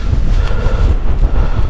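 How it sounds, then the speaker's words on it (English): Steady wind buffets the microphone with a low, rumbling roar that gusts unevenly throughout. "It's a very windy day."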